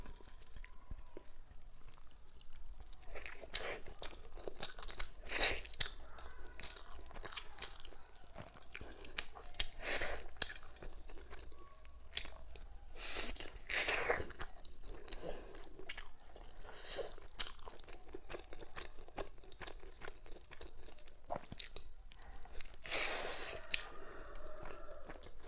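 Close-up chewing of a sticky rice zongzi dumpling filled with chestnut and pork belly, soft wet squishes and occasional crunchy bites repeating over a long stretch, with gentle mouth sounds and no talk.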